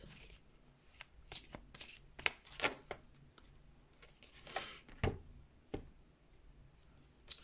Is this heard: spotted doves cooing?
no